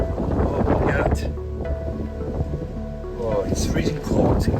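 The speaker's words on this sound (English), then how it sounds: "now we have heavy wind incoming. You probably can hear it also from the mic" Heavy wind buffets an outdoor microphone on a freezing 4°C day, a loud continuous roar of rumbling gusts that swells and eases, with brief faint voice fragments underneath.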